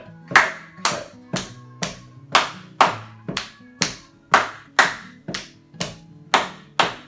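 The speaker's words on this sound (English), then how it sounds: "Slap, slap, clap, clap." Rhythmic sharp slaps and claps during a strength and balance warm-up exercise, about fourteen crisp hits spaced evenly at roughly half-second intervals, close and clear with no talking.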